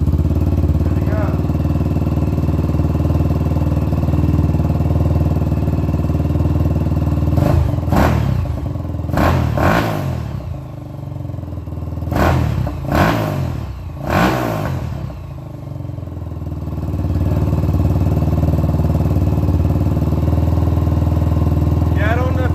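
Yamaha YFZ450R quad engine idling steadily up close after a restart, a continuous rumbling drone with a few brief blips of revving partway through; voices talk briefly over it.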